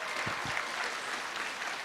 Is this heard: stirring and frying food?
no